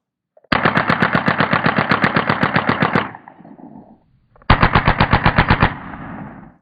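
A Taurus TX22 pistol fitted with a PipSqueak suppressor fires .22 rounds in two rapid strings. The first string is long, with about twenty shots in steady quick rhythm, and after a pause a shorter string follows. Each string ends in a brief echoing tail.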